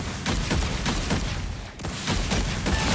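Punisher's ultimate in Marvel Rivals fires a steady barrage of auto-locking missiles, a dense rapid volley with a brief dip partway through before the rattling fire resumes at full loudness.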